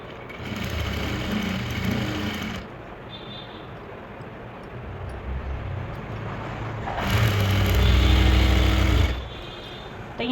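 A sewing machine stitches a salwar hem, running in two loud bursts of whirring motor noise, one early and one near the end, with quieter mechanical hum between them and no talk.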